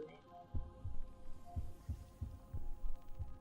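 A heartbeat sound effect in the video game Honkai: Star Rail, with a soft, steady, repeating low thump over a sustained hum and faint voice sounds.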